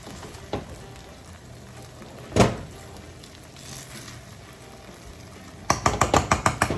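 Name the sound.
stirring rice with pigeon peas in pot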